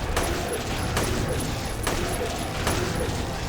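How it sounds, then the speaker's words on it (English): Gunshots in the Silent Hill 3 horror game, four evenly spaced sharp shots about a second apart over a dense, noisy background. "Just keep shooting her."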